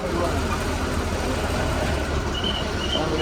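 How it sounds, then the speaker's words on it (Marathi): Maharashtra state transport ST bus pulling out of the Devgad bus stand during heavy rain, its engine making a steady low rumble throughout under continuous speech. "गाडी सुटलेली आहे देवगड एस टी स्टँडवर"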